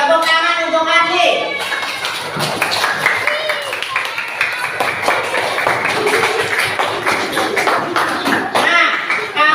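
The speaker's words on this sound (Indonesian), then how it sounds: "tepuk tangan untuk Andi" A classroom of students claps for a classmate, a dense burst of many hands that stays steady and fairly loud throughout, with some voices mixed in.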